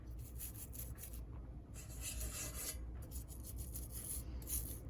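Steady close scrubbing of a vintage Aristo Craft Camel Back 0-4-0 locomotive body, a continuous rasping rub in repeated back-and-forth strokes, done gently to avoid removing worn paint.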